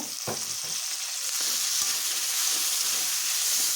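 Half-ripe, half-green tomato frying with onions in a pan while cooking a small fish curry, a steady close sizzle with a few brief stirring knocks and no voices.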